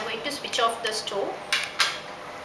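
A spoon stirs sprouts pepper gravy with paneer and a squeeze of lemon in a pan, making a few soft scrapes and clinks close by, with someone speaking over them.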